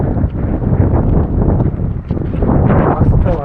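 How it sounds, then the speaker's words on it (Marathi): Strong wind gusts buffet the microphone on an open hill fort gateway in rain and fog, a continuous roaring rush rising and falling in loudness throughout. "मस्त वारा सुटला आहे"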